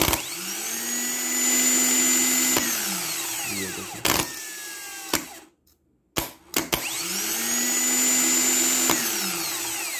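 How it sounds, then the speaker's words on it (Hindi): A car self starter motor is run on a test bench, whirring up to a loud, rising whine, holding, then winding down; a few clicks and short bursts follow before a second full spin-up and run. "ये जो मोटर है कम्प्लीटली हेल्दी है और बहुत ही अच्छे से ये काम कर रहा है"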